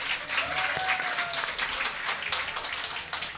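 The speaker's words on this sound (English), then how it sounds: "So let's get a big round of applause for our panel." An audience at an evening panel event celebrating women in hockey breaks into dense, sustained applause, a steady wash of many hands clapping close and loud throughout.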